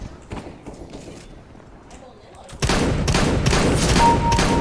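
Video game gunfire breaks out after a quieter stretch, with dense rapid bursts of shots firing loudly and continuously until the end.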